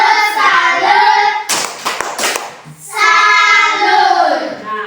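Schoolchildren in an early-grade classroom perform a brief clapped salute routine, a short burst of rapid claps between stretches of children chanting together.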